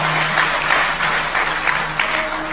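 An audience claps at a devotional Hindi talk, with a dense, steady patter of many hands at moderate distance that fills the whole stretch, with no talking over it.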